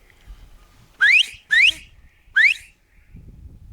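Three sharp, rising whistles of a whistled dog command, two close together then a third after a pause, loud and near against a quiet background.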